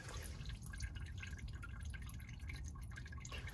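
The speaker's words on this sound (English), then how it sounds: "We having coolant leaking, but I can't figure out from where." Coolant drips from a Mk5 GTI engine converted to a big turbo, faint and scattered against a low, steady hiss.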